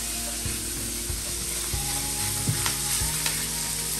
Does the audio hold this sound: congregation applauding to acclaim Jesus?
no